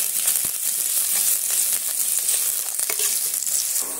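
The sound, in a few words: chopped onion frying and being stirred in hot oil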